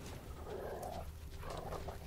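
Husar the dog tracking a scent in The Witcher 3, giving two short panting or sniffing bursts over a low steady game background, moderately close with no talk.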